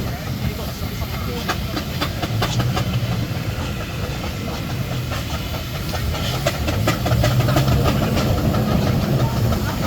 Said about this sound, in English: this is another of their engines, an agricultural engine called Jubilee